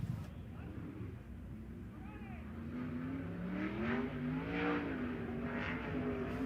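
Race cars in qualifying at Perris Auto Speedway, a High Limit Racing event, with engine notes rising and falling as cars pass, lapping continuously under a commentator's voice.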